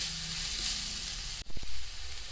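Ginger garlic paste fries and sizzles in a pan, a steady hiss broken by a brief scrape and clatter of stirring partway through.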